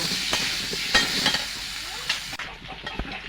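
Pumpkin and potato pieces, seasoned with salt and turmeric, fry in oil for khichuri: a steady close sizzle with occasional stirring scrapes and clicks, and no talking.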